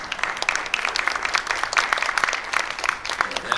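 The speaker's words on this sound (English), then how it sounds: "I want to give yourself a little applause for being here today." A seminar audience in a Franklin, Tennessee factory venue applauds, a steady, dense crowd clapping heard at moderate distance with little talk over it.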